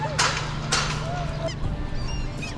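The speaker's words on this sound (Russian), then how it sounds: "И летают чайки." Seagulls flying over an empty Red Square in Moscow at sunset. Several honking calls ring out across open air, some loud and others farther away, over a steady outdoor hum.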